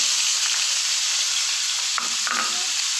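Chicken mince frying in cooking oil in a pan, a steady bright sizzle filling the whole stretch, with a couple of brief stirring scrapes near the end and no voices.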